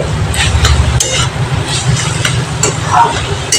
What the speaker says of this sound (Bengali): ডিমের কুমড়োটাকে ভালো করে ভেজে নিই